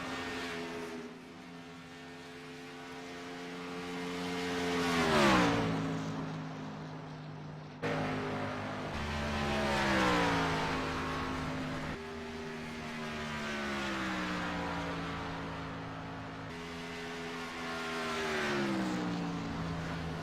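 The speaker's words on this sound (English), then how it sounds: "Next up, we've got Gary Sheldon in the 88 Chevy Camaro." A Chevy Camaro race car, number 88, accelerates hard on a qualifying run, its engine pitch repeatedly climbing and falling through gear changes over about twenty seconds, fairly faint and distant.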